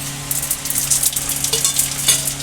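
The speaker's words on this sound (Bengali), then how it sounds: "একই তেলের মধ্যে দিয়ে দেবো ফোড়ন তিনটে তেজপাতা নিয়েছি এখানে" Bay leaves, dried red chillies and panch phoron sizzle in hot oil for a cucumber shukto, a close, steady crackling hiss with tiny pops throughout, no voices.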